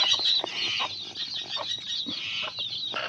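A mother hen clucks repeatedly in a farmyard where she leads her small chicks, with short rhythmic clucks close by over steady background noise.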